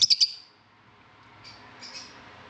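A few sharp high chirps from birds in an aviary flight cage open the moment, then quieter scattered calls sit faintly over a low background hum.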